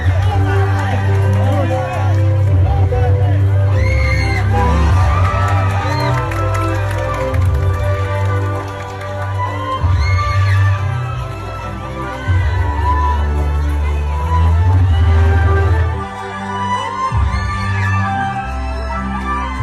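A large crowd at a Philippine political gathering cheers and shouts loudly and continuously, with dense babble and occasional bursts of clapping rising and falling throughout.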